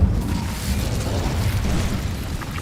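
Incendio fire spell blast in Hogwarts Legacy, a steady roaring, rumbling burst of flame and low booms that stays loud for the whole short stretch, with no voices.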